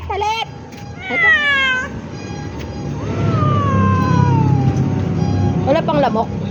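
Several cats meow at night in short, rising and falling calls, one long drawn-out meow in the middle, with a vehicle rumbling faintly underneath.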